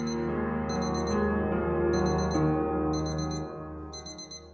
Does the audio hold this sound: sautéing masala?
no